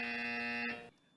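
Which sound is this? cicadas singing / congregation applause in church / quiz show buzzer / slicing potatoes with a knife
quiz show buzzer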